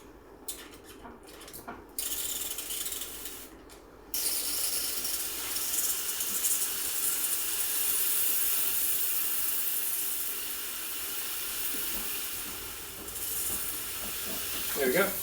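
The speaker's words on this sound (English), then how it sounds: "And for steam, you just turn it the other way." A Breville Barista Express BES870 espresso machine's steam wand hisses loudly and steadily after a few brief mechanical clicks, a broad close-up rush of steam that runs on with little change.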